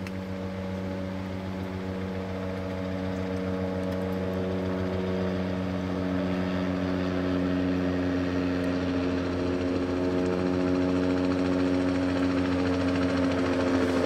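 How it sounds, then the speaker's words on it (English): A helicopter drones steadily throughout, its rotor and engine hum constant and close, with no talking. "first helicopter flight into the bush"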